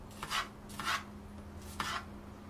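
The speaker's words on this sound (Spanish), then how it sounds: "lo que podemos hacer es picarla otro poquito más" A knife chops garlic on a cutting board while preparing trout, three distinct scraping chops spaced about half a second to a second apart over a faint steady hum.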